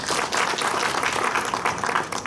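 An audience at a medical ultrasound workshop applauds to welcome a lecture on basic upper and lower abdominal ultrasound scanning. The clapping is dense, steady and continuous from a crowded room throughout.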